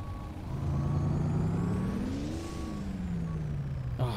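A Kenworth W900A truck engine in American Truck Simulator revs up and winds back down in a rising, then falling whine, ending with a short hiss of air release.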